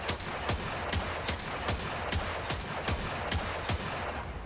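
Hand cannon gunfire in the Destiny 2 video game, a steady series of about ten sharp, loud shots spaced roughly every half second over constant background game noise.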